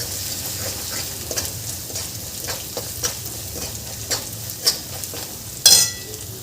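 Chilli powder and coriander powder are stirred into hot oil for dum aloo, a steady sizzle under repeated scraping stirs with a few louder clacks of the spoon near the end, no talk.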